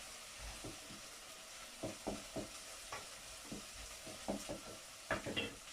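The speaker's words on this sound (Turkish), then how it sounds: "Soğanlar kavrulurken." Onions sautéing in a pan, a quiet, close sizzle broken by repeated short scrapes and stirs of a utensil.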